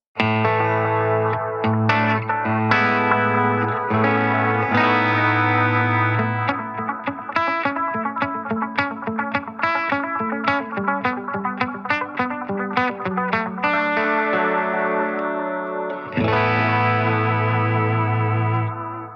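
Distorted electric guitar chords and picked notes through a Wampler Metaverse delay pedal with modulation turned up, wavering, swirling repeats trailing behind, played continuously and fairly loud.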